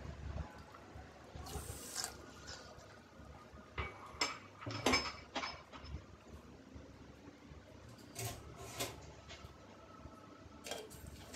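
Water goes into a pot holding sugar for jilipi syrup, with a few clinks of a metal pot and utensils, soft splashes and scattered knocks, close and fairly quiet, no talking.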